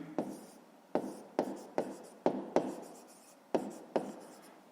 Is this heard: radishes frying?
no